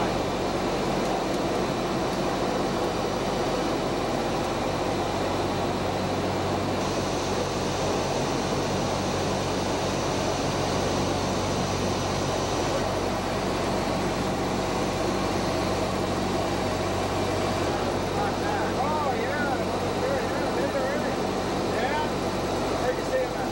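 A Douglas DC-6 propeller airliner cruises at low altitude over the Caribbean, filling the cabin with a constant, dense engine and propeller drone throughout, while a voice talks over it.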